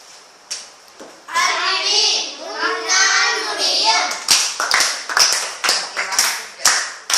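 Schoolchildren clap for a classmate in a classroom, a burst of applause mixed with children's voices, followed by a series of loud, rhythmic group claps, close and clear.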